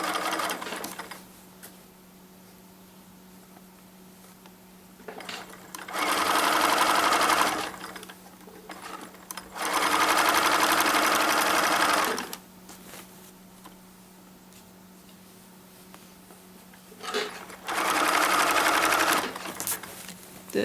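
A sewing machine stitches a newborn mermaid outfit in three long, steady whirring runs, with quiet pauses between them and a constant low hum underneath.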